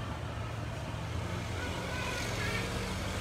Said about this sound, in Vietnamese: cửa hàng đang nổ máy cho mọi người xem nghe con xe SH2020